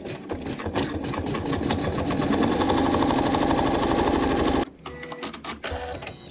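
A sewing machine runs in a fast, even stitching burst for several seconds while tacking down a quilt block, then stops, followed by a few softer clicks and mechanical handling sounds up close.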